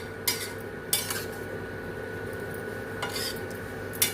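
A spoon scrapes and clinks against a pot of okra curry (vendakkai kuzhambu) as it is stirred, with a few sharp metallic knocks spread over a steady kitchen hum and no talking.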